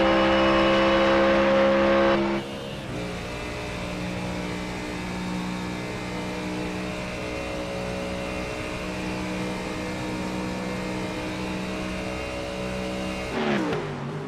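GT3 race cars lapping the steep banking at Daytona in a racing video game, a loud engine whine that drops abruptly and settles into a steady droning hum, then swells briefly near the end.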